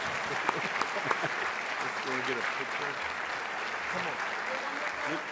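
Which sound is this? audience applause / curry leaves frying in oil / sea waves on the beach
audience applause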